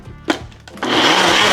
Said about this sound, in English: So I have my blender over here, I have my sauce mixture. I'm going to put this on and give it a blend.